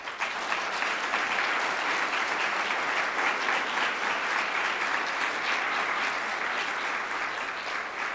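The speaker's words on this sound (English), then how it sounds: "let's go through one last round of applause for the local organizing committee" An audience at the closing plenary of a science conference applauds the local organizing committee, with loud, dense clapping held steady through the whole stretch.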